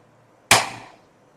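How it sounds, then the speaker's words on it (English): A gas stove burner ignites with one sharp click and a quick whoosh of flame that fades over about half a second, in an otherwise quiet kitchen. "I'm going to turn on the fire now."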